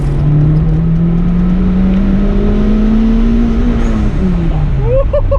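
Turbocharged Acura Integra engine revving steadily and loud throughout a test drive, the pitch climbing slowly then easing off, with a faint voice toward the end.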